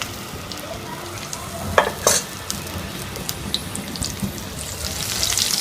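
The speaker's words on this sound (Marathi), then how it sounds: "तेल गरम झालं की यामध्ये मिरची आणि हळदीची पेस्ट घालायची" Chili and turmeric paste hits hot oil for a drumstick curry, producing a dense, continuous hiss and sizzle with sharp spits and pops scattered through it, close by.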